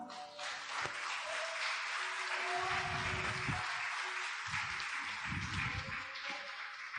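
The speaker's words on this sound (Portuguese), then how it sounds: "Aplaude o Senhor." Congregation clapping during an online church worship service, a broad wash of applause and crowd noise that swells and continues throughout, with low thumping bursts underneath.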